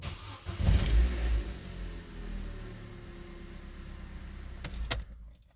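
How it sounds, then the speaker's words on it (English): A 2009 Vauxhall Corsa 1.2 petrol engine cranks and catches with a brief surge, then settles into a steady low idle close by, ending with a short burst of clicks and a small rev before quieting. "I'll start the car as well."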